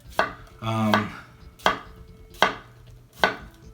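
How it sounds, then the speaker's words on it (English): A nakiri knife chops roughly through food on a cutting board, giving four sharp, evenly spaced thuds with a longer scraping stroke between the first two. The cuts are close and clear, with no voices. "Just cutting roughly."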